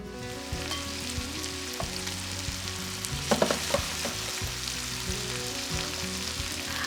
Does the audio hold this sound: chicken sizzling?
yes